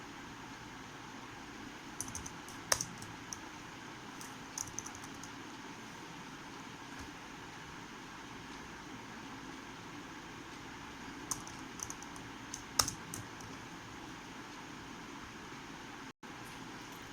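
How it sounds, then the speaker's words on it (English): Sparse, faint keystrokes on a computer keyboard come in small scattered bursts over a quiet, steady background hiss. "Now here I'm typing."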